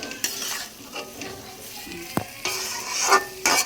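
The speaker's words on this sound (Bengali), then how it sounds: "এবার আমি মশলাগুলোর সাথে মাখিয়ে নেব" A spoon stirs pointed gourd with spices in a frying pan for a paneer-stuffed potol dorma, making scraping clinks of utensil on metal over a steady soft sizzle.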